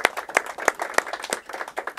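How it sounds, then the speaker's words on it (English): A small audience claps at a chamber of commerce ribbon cutting for a new business called Bright Star, a brief patter of scattered, fairly quiet hand claps. "Y'all give Bright Star a round of applause for me."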